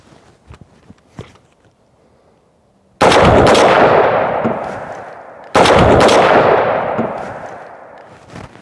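Incendiary rounds are fired at a gasoline-soaked mannequin outdoors: two loud, sharp gunshots a few seconds apart, each followed by a long roaring whoosh of flame, after faint clicks and handling sounds.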